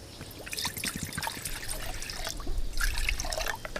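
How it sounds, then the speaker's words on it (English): Water poured steadily into the bottom of a cooking pot to a depth of about one to two inches, a continuous splashing trickle close by with no talking. "we're gonna fill the bottom of this full of water"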